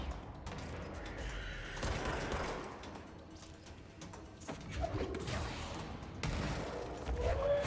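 Pistol gunfire in the video game Control, a run of muffled shots and impacts over dense, rumbling game noise, with crashes and thuds mixed in and no clear speech.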